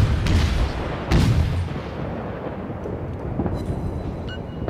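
Heavy naval gunfire in World of Warships, with deep booming blasts, two strong salvos near the start and fainter rumbling shots after, over a constant low roar with no talk.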